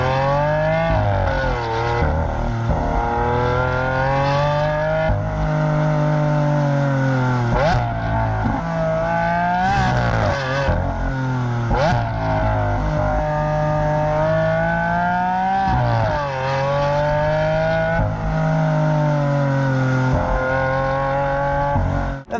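A Lamborghini Aventador SV Roadster's 741-horsepower V12 drives hard on an open road, a loud, continuous snarl whose pitch climbs and falls through repeated gear changes and revs, with no talking over it.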